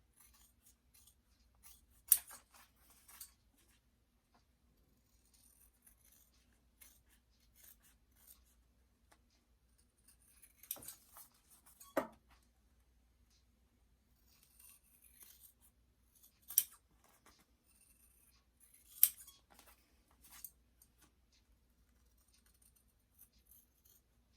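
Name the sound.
scissors cutting out fabric bag shape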